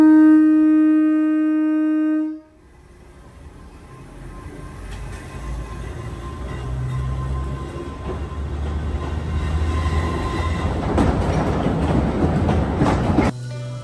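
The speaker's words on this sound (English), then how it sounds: "As soon as we arrive, another train departs." A Kurobe Gorge Railway train pulls out of a Japanese mountain station after a brief electronic tone, its wheels rumbling and clacking louder and denser as it builds speed.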